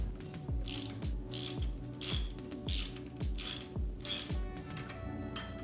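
A hand ratchet tool tightens a motorcycle headlight bracket, giving a steady series of about nine crisp, close ratcheting clicks in an even back-and-forth rhythm with no talk.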